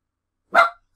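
A single short dog bark, close and fairly loud, rising suddenly out of silence and fading within a fraction of a second; two pet dogs are in the room.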